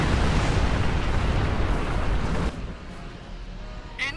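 Sustained roaring blasts from the Doomsday Weapon firing in Star Trek Online, a dense, loud explosive wash that cuts off into a quieter rumble with a brief burst at the end.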